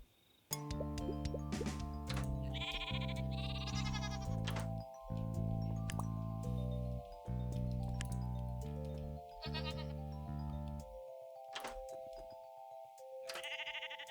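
Sheep bleating in the video game Miniland Adventure, several repeated bleats over soft tonal game music with chimes, fairly close and clear, without speech.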